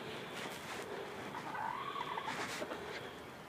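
Backyard chickens and a rooster in a village yard give soft clucks and coos over a continuous outdoor hiss, moderately near, with no talking.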